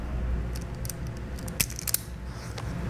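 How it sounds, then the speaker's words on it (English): Insulation being stripped from trailer brake controller wires on a 2010 Chevrolet installation, heard as a few faint, sharp clicks and snips over a steady low hum, close and quiet with no talking. "We'll strip back the insulation from all of our wires."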